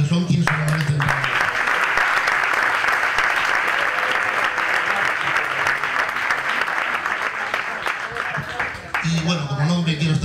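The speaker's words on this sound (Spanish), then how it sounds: "A todos ellos, por favor, un gran aplauso, que son quienes se lo merecen." A big round of applause fills the hall at a boxing gala, loud, sustained clapping that holds steady for several seconds, with a voice heard before it starts and again as it fades.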